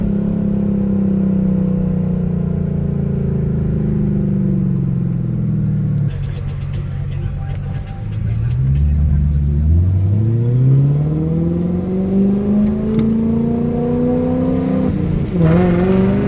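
A BMW 540i E39 V8 engine and exhaust rev hard on a downshift with the windows open, loud and close, the pitch dipping and then climbing steadily as the car accelerates, with a brief crackle at the shift.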